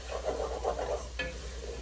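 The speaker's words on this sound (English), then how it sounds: "our garlic and saute that for just a couple minutes" Garlic sautéing in a pan, a soft steady sizzle with gentle stirring, quiet and close, and a brief metallic scrape near the end.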